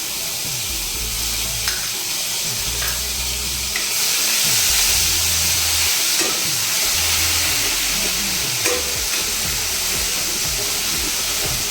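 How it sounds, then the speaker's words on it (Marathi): Ginger garlic paste with mustard seeds and cumin fries in hot oil with a loud, steady sizzle and hiss, close up, while a spoon scrapes the pan in a repeated rhythm underneath. "हलकीशी आपल्याला तेलामध्ये भाजून घ्यायची पेस्ट आणि बटाटे घालायचे"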